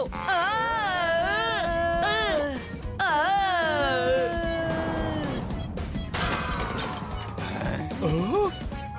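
In a cartoon dahi handi pot-breaking competition, a clay pot smashes in one sudden crash partway through, surrounded by wailing, whining cartoon voices and creaking effects.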